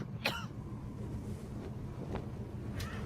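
A man coughs sharply once, then twice more, fainter and farther apart, over a steady low rumbling background.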